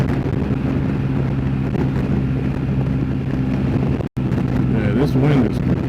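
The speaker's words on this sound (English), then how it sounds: "This wind is crazy." Strong wind roars and buffets against the microphone while riding a motorcycle on the highway, a loud continuous rush with a sudden brief dropout, and someone speaks under it.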